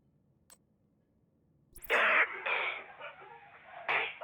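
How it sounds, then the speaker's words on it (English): A character in the video game The Division coughs in a quarantine setting: after a near-silent start, several harsh, raspy coughs come close and loud, the last one breaking off sharply. "Not with you coughing like that."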